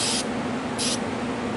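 Two short bursts of aerosol rim oil spray hiss onto a Dan Wesson .357 revolver, a quarter-second blast then another shortly after, close and loud over a steady low hum.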